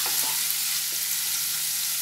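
Already-fried vegetables, potato and bitter gourd for a Bengali posto dish, tipped into a pan with sugar, bursting into a loud steady sizzle after a couple of brief thuds at the start.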